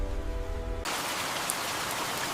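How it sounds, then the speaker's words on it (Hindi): Heavy, steady rain pours down over dense forest in a rainy region of Chhattisgarh, a dense hiss that keeps going with no talk. A short low-pitched tonal passage comes before it. "जहां घने जंगलों में लगातार बारिश होती है"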